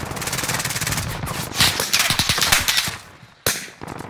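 Rapid automatic gunfire in Call of Duty Warzone, loud bursts of rattling shots with a sharp single crack near the end, close and continuous.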